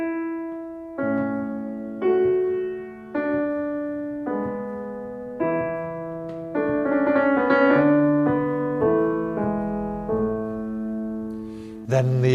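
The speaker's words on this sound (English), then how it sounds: "the first four bars of the strings sound like this" A string section plays the opening bars of a Haydn symphony, with sustained harmonised chords moving in clear steps over a bass line, loud and close with no talking.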